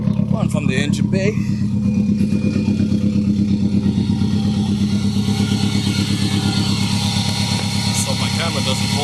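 Engine of a 1994 Subaru Impreza WRX running at a steady idle, recorded up close in the engine bay, with a loud, even mechanical thrum and clatter throughout.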